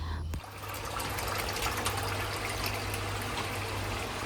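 Mains tap water pouring into a container, a steady close trickling rush that runs on without a break after a brief pause at the start.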